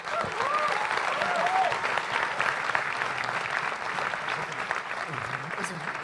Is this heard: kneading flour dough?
no